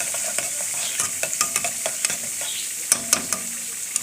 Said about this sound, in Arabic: خلي بقى الثوم يتحمر شويه ماشي.